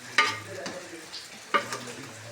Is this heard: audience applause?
no